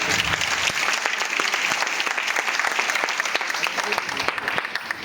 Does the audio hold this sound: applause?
yes